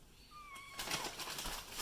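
A cat meows several times in rising, drawn-out cries, fairly close and clear, followed by louder clattering kitchen noise while vegetable soup is being made.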